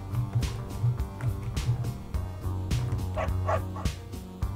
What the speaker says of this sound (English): Aw, cute little puppy.